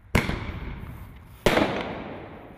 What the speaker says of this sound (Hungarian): Városszerte ropogtak a tűzijátékok 6 órától.